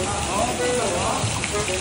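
A heavy rain-like water shower pours down at a hot spring resort in Los Baños, Laguna, a dense, steady hiss of falling water close by, with a voice talking over it.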